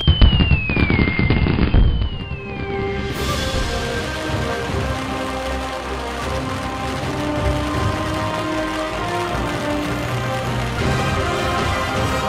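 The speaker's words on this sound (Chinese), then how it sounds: "吉时一到，六间祠堂的爆竹同时点燃。" Firecrackers set off at six ancestral halls at once during a festival, a dense, loud, continuous crackle of rapid bangs that fills the scene like heavy rain, with no talk.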